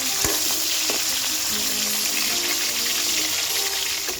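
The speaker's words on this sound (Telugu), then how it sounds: "కాకరకాయలు ఇలా దూరగా మంచిగా వేగాయండి" Bitter gourd pieces frying in an oil-filled pan, giving a loud, steady sizzle and crackle that runs throughout, close by and with no talking.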